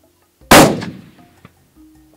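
A single loud rifle shot fired while hunting blesbuck in Africa, a sharp close blast followed by a brief rolling echo that decays over about a second.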